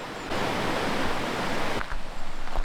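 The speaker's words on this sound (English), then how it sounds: "hear the water running below you" Water running through a Swiss Alpine valley below a covered bridge, a steady broadband rushing that swells after a moment and stays even, with a slight dip and some close handling noise near the end.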